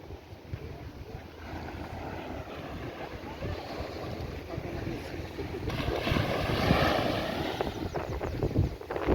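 Waves washing onto the beach at Carlisle Bay, Barbados, with boats nearby, a steady broadband wash of surf and wind noise that swells louder in the second half.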